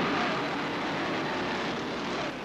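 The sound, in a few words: Apache military helicopters hovering over a race track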